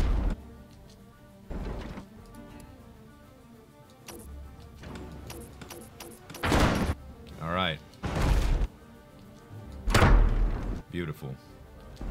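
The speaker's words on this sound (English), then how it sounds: "One more mortar shot" Cannon-like mortar shots fire in the ship-combat video game Abandon Ship, giving several sharp thumping booms and bursts spread irregularly among quieter game sounds.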